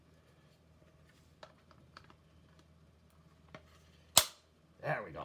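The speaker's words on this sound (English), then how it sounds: "Nice clicking snap, so that's good. Didn't break it." A plastic Halo Shade turret toy piece is pressed into place: a few faint handling ticks lead to one sharp, close click, followed by rustling. Someone speaks briefly.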